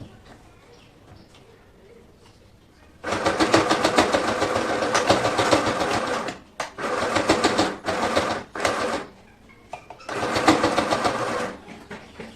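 A sewing machine stitching a partywear umbrella lehenga runs in several loud, rapid-clattering bursts separated by brief pauses, with quiet room sound between runs.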